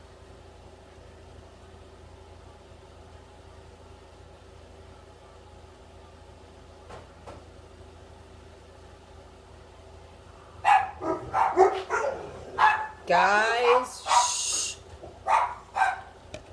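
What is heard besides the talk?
dogs barking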